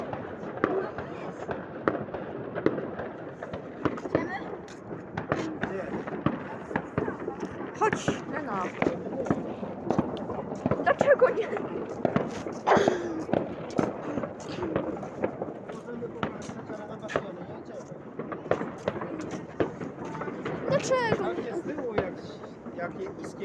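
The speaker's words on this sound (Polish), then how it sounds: "To jednak fajerwerki w kształcie" Repeated New Year's Eve fireworks bursts crackle and pop, near and far, in a constant rumbling barrage while people talk over them.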